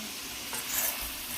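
Meat searing in a pan at dinner time, a steady broadband hiss of sizzling frying with a slight swell midway, close and continuous with no talk.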